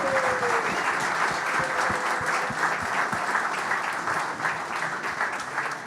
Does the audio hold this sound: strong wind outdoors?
no